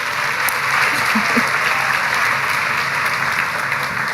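Steady, dense clapping fills a new undergraduate student orientation hall, a continuous wash of many hands with no pauses.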